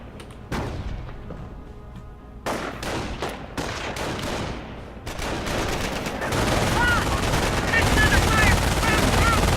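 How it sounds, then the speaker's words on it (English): Sustained MG42 machine gun fire laying down suppression in a World War II video game, long dense bursts mixed with other distant gunshots and booms, growing louder and more continuous toward the end. "MG42 laying down some suppression"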